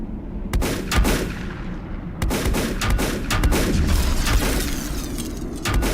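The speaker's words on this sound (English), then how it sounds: "So what you got to do is you got to shoot these guys." Loud gunfire in the steampunk survival game Volcanoids as robotic enemies are shot, with rapid bursts of booming shots and sharp cracks firing almost without a break, dense and close.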